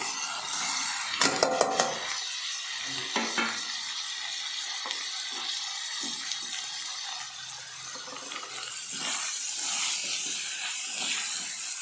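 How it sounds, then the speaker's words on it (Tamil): Beetroot pulao vegetables with mint and coriander sautéing in coconut oil, a continuous close sizzle and hiss with stirring scrapes and a few clinks near the start. "தேங்காய் எண்ணெய் செஞ்சால் நல்லா ஒரு 5 நிமிஷம் வதங்கட்டும்"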